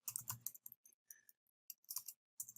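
Fingers type on a computer keyboard in short bursts of close, crisp key clicks, separated by quiet pauses, with no voices.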